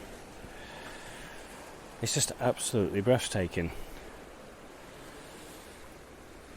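Sea waves breaking at the water's edge in Cape Town make a steady, soft wash of surf and wind, with a person speaking briefly over it partway through.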